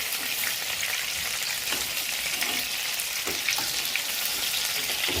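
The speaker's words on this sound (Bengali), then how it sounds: "এবার আমি প্রত্যেকটা চিকেনকে তেলের মধ্যে দিয়ে দিয়েছি, লাল লাল করে ভেজে নিয়ে।" Chicken pieces for chicken 65 deep-frying in hot oil produce a loud, constant crackling sizzle close up, steady throughout with small bursts of popping.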